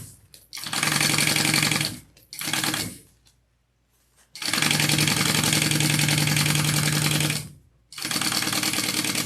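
A sewing machine basting the zipper panel of a tote bag runs in three close, loud bursts of rapid stitching, the first brief, then a short gap, a long steady run after a pause, and another run at the end.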